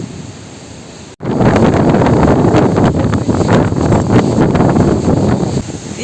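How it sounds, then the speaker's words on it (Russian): Stormy sea pounding a beach shore in strong wind, a loud, continuous roar of surf and wind buffeting the microphone, starting after a brief quieter moment. "Сегодня море штормит."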